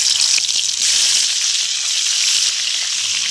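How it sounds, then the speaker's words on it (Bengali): Snakehead fish frying in hot oil in a wok, a steady, close, bright sizzle that holds even and loud throughout with no talking. "মাছগুলো ভেজে নেব।"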